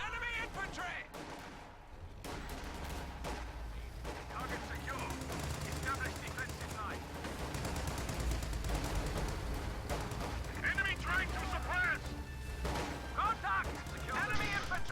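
Anti-tank guns fire at range on a Puma armoured car in a tactical war video game, with bursts of gunfire and heavy shots under a dense, continuous battle din.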